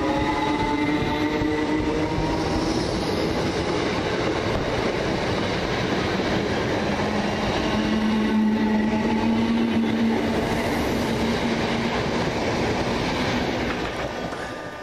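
Class 319 electric passenger trains pulling away from Preston Park station, a steady loud rumble of wheels and motors with a rising electric whine, continuous throughout.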